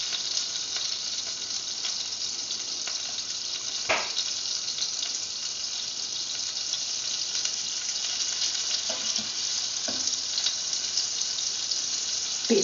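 Butter melting in a frying pan over hot oil, a steady bright sizzle running throughout with a few faint clinks and scrapes, fairly close and even in level.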